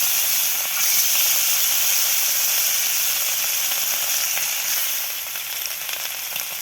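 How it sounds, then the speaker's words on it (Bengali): Marinated rohu fish pieces fry in hot white oil with a loud, continuous, close hissing sizzle that softens slightly toward the end. "এবার দিয়ে দিচ্ছি রুই মাছে ম্যাগনেট করে রুই মাছগুলো"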